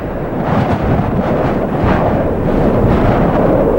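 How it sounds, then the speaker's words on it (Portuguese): Blizzard wind drives snow crystals over open ground in a continuous loud roaring rush with gusty swells and no voices. "O vento leva os cristais de neve por sobre a terra."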